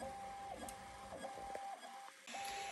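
A Prusa MK4 3D printer runs mid-print, its stepper motors giving a quiet, steady whine with repeated short pitch sweeps and soft clicks as the head changes direction, faint and close.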